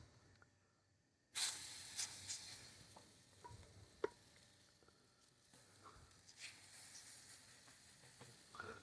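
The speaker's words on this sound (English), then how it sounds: "We're going to let them fry till they're golden brown on each side." Watercress fritter batter frying in beef tallow on a 36-inch Blackstone griddle, a steady close sizzle that jumps up as batter hits the hot fat, with scattered pops and scraping clicks and no talk.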